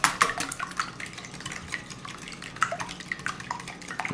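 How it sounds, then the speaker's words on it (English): Eggs whisked in a bowl for a chicken strip batter give quick, light, irregular clinks and taps of utensil against the bowl, close and fairly quiet, with no talk. "Eggs first. Give them a whisk. And break those yolks."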